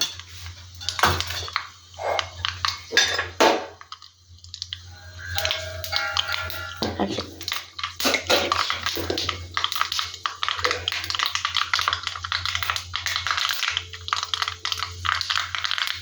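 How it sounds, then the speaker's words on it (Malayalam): Mustard seeds popping in hot oil in an iron pan, a close run of sharp irregular pops and crackles mixed with metallic clinks of a spoon on the pan, fairly loud throughout with no talking. "കടുക് പൊട്ടുന്നു."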